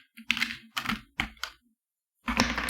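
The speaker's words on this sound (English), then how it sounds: "We are going to shuffle it a couple of times more." A Spirit of the Animals oracle card deck is shuffled in several quick bursts of papery riffling and clicking, close and crisp, separated by short silences.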